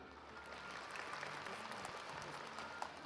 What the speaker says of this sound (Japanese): 長野選手が飲んだと思う方拍手お願いします